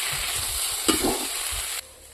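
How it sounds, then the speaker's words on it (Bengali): Eggplant and spices are stir-fried in a pan with a constant sizzle, and a spatula scrapes and stirs in quick strokes, close up, until the hiss suddenly drops near the end. "এখন বেগুনের সঙ্গে ভালো করে মশলাটাকে আমি কষিয়ে নেব।"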